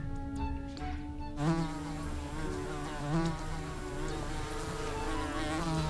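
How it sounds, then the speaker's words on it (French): A housefly buzzes in an animated cartoon. The buzz is a steady drone that runs the whole time beneath busy cartoon music, with a few louder swells along the way. "Je pense que ma mouche Cricri a peur de toi"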